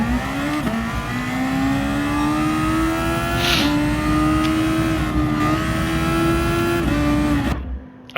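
A race car engine screams at high revs around the Spa circuit in a racing video game, a loud continuous drone that climbs steadily through the gears with brief dips at each shift before cutting off abruptly near the end.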